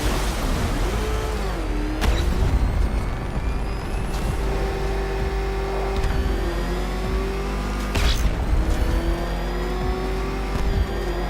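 The Batmobile in the game Batman: Arkham Knight racing at high speed, its engine a loud, continuous roar that whines up and down with gear changes, with intermittent crashes and bursts, with no talking.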